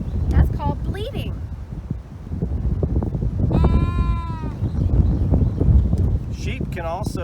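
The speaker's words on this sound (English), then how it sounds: "Do you hear that sound they're making? That's called bleating." Sheep bleating outdoors in wind, several wavering calls at different pitches, some near and some farther off, over gusty wind noise.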